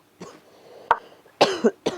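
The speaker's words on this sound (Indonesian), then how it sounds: "Aduh, repot kalau batuk kayak gini sembuhnya lama." A person coughs in several sharp, close bursts spread over a couple of seconds, with a faint murmur between them.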